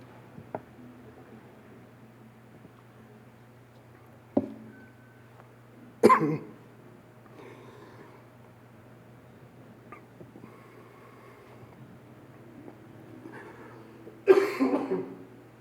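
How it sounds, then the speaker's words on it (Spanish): A man's coughing fit during an afternoon church sermon, with a sharp cough burst near the middle and another near the end, both close and loud, set over a steady low room hum. "me agarró la tosedera"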